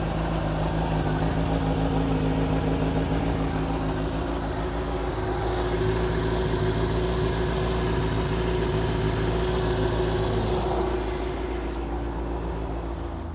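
A mint-condition Honda CBR600 sport motorcycle with about 3,100 miles, bought new, idles close by in a steady, even low rumble throughout, with no talking.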